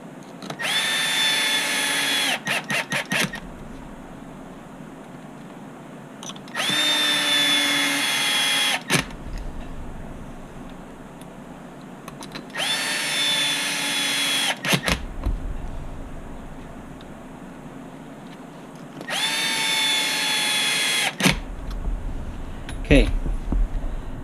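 A power driver drives four flathead screws through the tower of an HB Racing D817V2 RC buggy, several bursts of high whirring separated by short pauses, with clicks and small clinks between runs.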